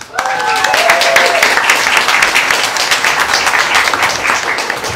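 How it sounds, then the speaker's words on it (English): A crowd breaks into sustained, dense applause, loud and steady throughout, with a voice briefly heard at the start. "A round of applause, please."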